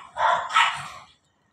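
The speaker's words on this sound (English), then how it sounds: "The dogs waking up now." Dogs in the Philippines bark twice in quick succession at moderate distance, two short, fairly loud bursts with no talk over them.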